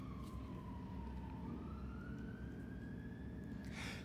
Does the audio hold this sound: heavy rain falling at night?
no